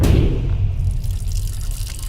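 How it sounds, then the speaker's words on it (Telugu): A broken water tap that will not shut off runs continuously, making a steady, close, low gushing rush with no break and no voices. "నువ్వెంత కట్టినా ట్యాప్ ఆగదమ్మా, అది రిపేర్లో ఉంది."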